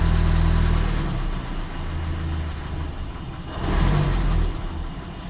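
A Citroën Traction engine runs with the choke pushed off, a steady close idle with a low rumble that swells briefly in a rise of revs before settling again.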